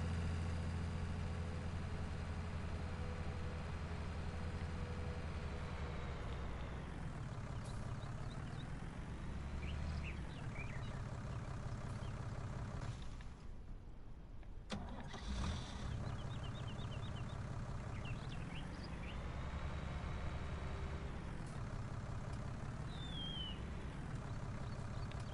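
A tractor engine in the farming game Big Fields Farm, a continuous low droning rumble that rises and falls in pitch as it works, with a brief dip mid-way, steady and fairly prominent with no speech.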